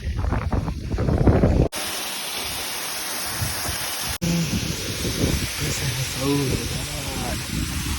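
The Kalanki human-made waterfall at Ulikal in Kannur gives a steady, broad roar of rushing water, heavy and continuous, with wind buffeting the microphone and a voice talking over the start and end.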